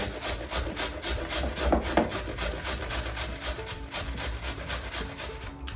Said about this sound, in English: if you take your time and use the big grater, it's okay